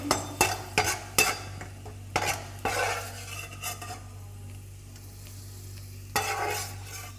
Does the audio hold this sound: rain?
no